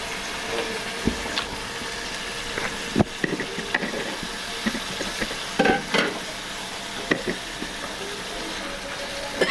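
Chicken and fish pieces sizzle and fry in a pan of spiced masala, a steady crackling hiss broken by scrapes and clacks of stirring, close by with no talking.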